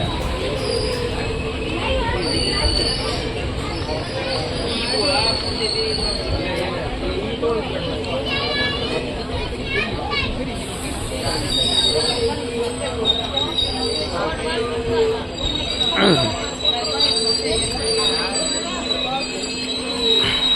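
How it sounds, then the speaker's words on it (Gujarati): A train pulls in at platform 1 of Khijadiya junction railway station, its wheels squealing loudly with a long sustained metallic screech and rumbling wagons nearby, while people talk over it. "પ્લેટફોર્મ નંબર 1 ઉપર આવી છે ગાડી."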